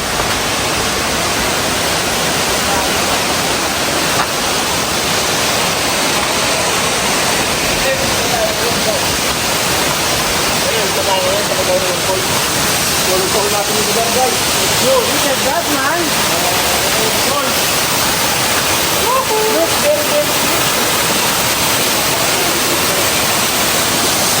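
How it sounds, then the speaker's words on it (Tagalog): Kaunayan Falls in Aurora roars as a dense, loud, constant rush of falling water, close and unbroken throughout, with faint voices partly buried beneath it. "Kaunayan Falls."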